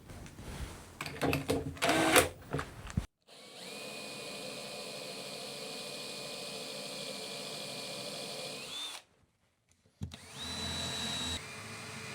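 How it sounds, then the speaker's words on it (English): A power drill with a Forstner bit bores a 10 mm hole, a steady whining run of several seconds after some handling clatter, cut off abruptly, then a shorter burst of drilling. "I'm going to get a Forstner bit and drill a 10 mil hole"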